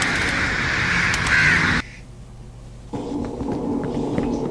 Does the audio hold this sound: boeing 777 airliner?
no